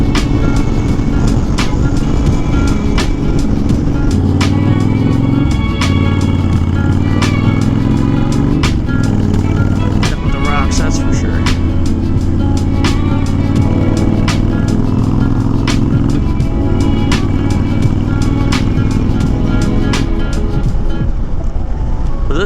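Honda Fury motorcycle cruising down a street, with a steady engine drone whose pitch shifts between gears, loud and close throughout along with wind rush, and no talking.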